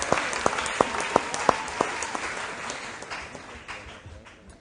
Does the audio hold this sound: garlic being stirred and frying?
no